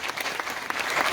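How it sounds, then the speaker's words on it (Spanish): Audience at an environmental and cultural gathering in Caaguazú applauding briefly, a short burst of steady, moderately faint clapping with no talk over it. "vamos a darle un fuerte aplauso"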